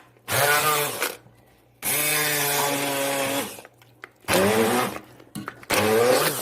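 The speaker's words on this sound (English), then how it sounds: "Now I'm going to just immersion blender it" Handheld immersion blender whirring loudly through butternut squash soup made with nut milk and curry, in three long bursts of roughly 1.5, 2 and 1 seconds, then a short final burst, with brief silent pauses between.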